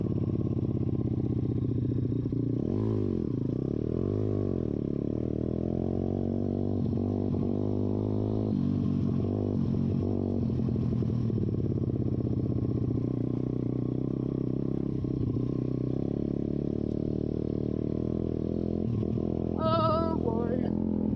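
Pit bike engine running continuously on dirt trails, a loud close buzzing drone that rises and falls with throttle, with rattling clatter over rough ground.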